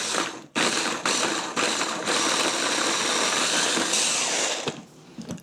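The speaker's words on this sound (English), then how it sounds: "Then blend until smooth." A blender whirs steadily through vegan chocolate muffin batter with peanut butter and apple cider vinegar, loud and close, its motor briefly stopping and restarting several times before one long continuous run that cuts off near the end.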